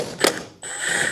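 A ratchet turning an 8mm bolt on a 2024 Honda Civic Type R tail light, giving a short close mechanical clicking burst, a brief pause, then a steadier ratcheting whir, with no talk.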